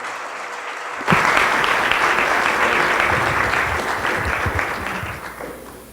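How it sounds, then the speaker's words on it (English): An audience at an international symposium breaks into sudden, sustained applause for the conference speakers. The dense clapping fills the room and slowly tapers off. "We'd like to give a big applause to our speakers."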